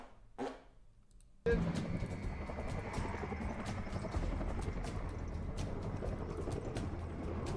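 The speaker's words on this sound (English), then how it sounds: "The helicopter's getting in position." A helicopter's rotor chop starts abruptly and continues steady and loud, a dense rhythmic thumping with broadband whoosh, after a short quiet opening with a brief voice.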